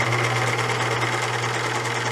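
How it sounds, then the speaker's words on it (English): A sewing machine at a home crafts table runs continuously while stitching a folded fabric seam, giving a close, steady mechanical whir and rapid needle chatter throughout, with no voices. "So I'm going to sit down here at the sewing machine now."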